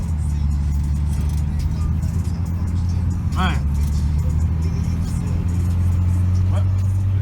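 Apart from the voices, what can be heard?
Chevrolet S10 pickup truck being driven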